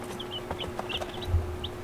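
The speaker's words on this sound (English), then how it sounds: "We hatched them here just from our chickens." Barnyard-mix chickens and chicks cluck and peep on a farm, scattered short high chirps and low clucks over a steady background murmur, fairly close and continuous.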